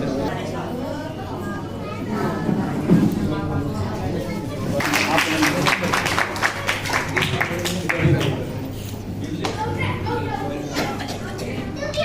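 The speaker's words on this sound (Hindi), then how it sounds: "जोरदार ताली बजाते रहेंगे" Audience clapping at a Ravidas Jayanti community gathering, bursts of applause rising and falling amid loud chatter and voices of adults and children, with people speaking over the noise.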